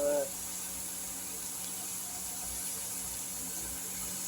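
Steady, even rush of water pouring in a small stream, continuous and close, with a faint hum behind it.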